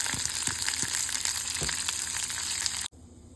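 Asafoetida, green chillies and dried red chillies frying in a pan for a bottle gourd seed pachadi, a loud steady sizzle with scattered pops and crackles, ending in a sudden drop to quieter hiss.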